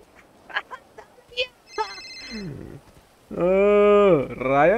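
Phone ringing with an incoming call: a loud, sustained electronic ringtone of warbling tones starts partway through, after scattered speech and short chirps earlier.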